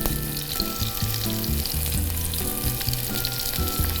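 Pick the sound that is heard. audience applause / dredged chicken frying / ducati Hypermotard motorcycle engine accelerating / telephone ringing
dredged chicken frying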